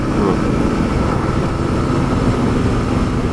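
A motorcycle engine, either a Honda Africa Twin or a Lexmoto Michigan, is held at full throttle in fourth gear, making a loud, continuous roar with rushing wind noise throughout.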